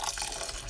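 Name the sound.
pouring hot boiling water from kettle into rice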